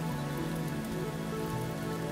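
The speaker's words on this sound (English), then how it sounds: "the rain falling onto a tall tree and then showering down" Steady rain falls onto a tall tree and showers down through its leaves, a dense continuous patter with a soft low tonal hum running underneath, even and unbroken throughout.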